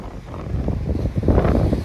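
Wind gusts on a cold, sunny October day by the Black Sea in Sochi, rumbling against the microphone in a steady, rising buffet, loud and without talk.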